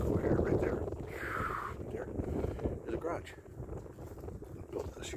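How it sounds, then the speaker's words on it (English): Wind buffets an open rural off-grid property, a continuous low rumble of gusts across the microphone, with a person talking over it. "It's windy today."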